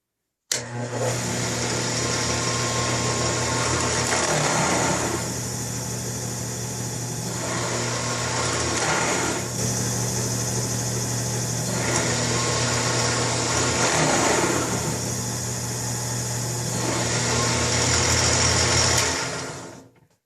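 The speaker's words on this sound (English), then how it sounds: "So I'm running with the same 1 inch Forstner bit." A Harbor Freight 10-inch drill press with a loose, slipping belt runs a 1-inch Forstner bit. The motor hums steadily at close range for about eighteen seconds, with the pitch dipping and surging as the bit cuts.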